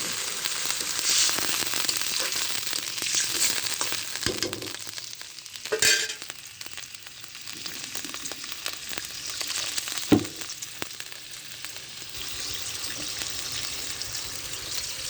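A spice paste for a broiler chicken dish sizzles and fries in a pan while being stirred. The crackle is steady throughout, with a few louder clatters and splashes, close by and with no speech.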